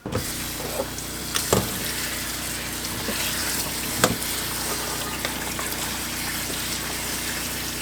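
Cubed zucchini is rinsed under a running tap, a steady wash of flowing water with a couple of brief knocks and clatters along the way, with no one speaking.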